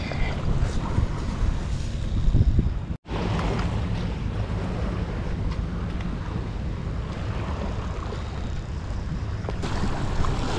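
Cold wind rushes steadily around a boat at sea at night, a dense, roaring broadband noise with microphone buffeting and a brief dropout near the start.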